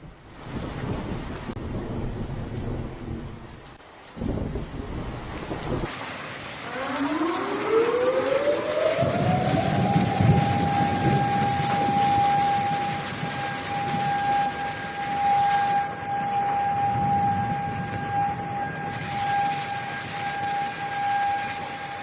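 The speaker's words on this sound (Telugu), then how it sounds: "రైట్ సైరన్లు చూసారు కదా. ఆ సైరన్లు మోగుతున్నాయంటే" A civil defense siren in Japan, sounding a tsunami alert, winds up from low to a high sustained wail and holds it for a long time, over a rumbling background of rain-like noise.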